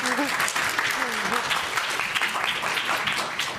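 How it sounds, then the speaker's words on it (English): Audience applause at a university graduate research talk competition finals, a steady dense wash of clapping lasting throughout, with a few voices calling out briefly near the start. "Let's give her another round of applause."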